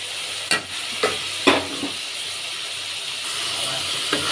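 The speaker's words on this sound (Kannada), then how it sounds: "ಇದನ್ನು ನೀಟಾಗಿ ಹುರಿಬೇಕು. ಹಸಿ ವಾಸನೆ ಎಲ್ಲ ಹೋಗ್ಬೇಕಿದೆ." Semolina and hyacinth beans roast in a pan for upma, giving a continuous soft sizzling hiss broken by a few scraping stirs of the spoon, with no talk.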